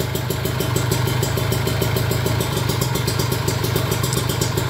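Close idling engine of a Kawasaki Ninja RR motorcycle, an even rapid putter with light mechanical clatter and faint thumps, holding a constant level throughout with no voices.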